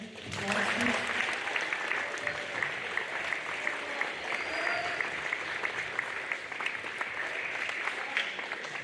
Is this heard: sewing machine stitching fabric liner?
no